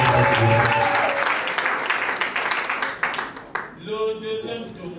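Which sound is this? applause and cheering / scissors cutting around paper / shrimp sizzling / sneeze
applause and cheering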